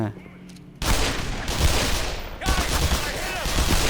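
Rapid bursts of gunfire in the Black Mesa shooter game start abruptly and carry on loud and dense, with a short lull before more shots pile in, under game noise and occasional speech.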